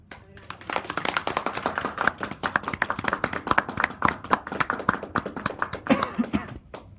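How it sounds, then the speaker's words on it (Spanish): A lecture audience claps loudly to welcome a doctor before his talk on human papillomavirus and cervical cancer, many hands producing dense, sharp, close claps with a rhythmic patter that thins out near the end. "Por favor, démosle la bienvenida al doctor con un fuerte aplauso."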